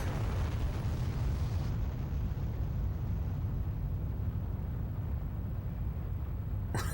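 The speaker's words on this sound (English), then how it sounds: "if it collapsed, it should absolutely be an explosion after. And sure enough, giant nuke" A giant nuclear-style explosion in the ending cutscene of The Legend of Dragoon on PS1, a loud, sustained rumbling roar with heavy low-end that holds steady for several seconds, then brightens slightly with a crackle at the very end.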